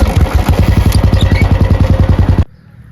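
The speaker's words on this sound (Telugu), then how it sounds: "మన దగ్గర రాయల్ బుల్లెట్ బైక్." A Royal Enfield Classic 350 Bullet single-cylinder motorcycle engine thumps close by in a fast, steady, even beat, loud and dominant for over two seconds before cutting off abruptly into near silence.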